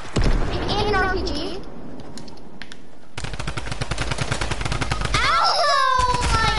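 A drum gun fires in the Fortnite video game, long bursts of rapid automatic fire running almost the whole time, while excited players talk and shout over the shooting.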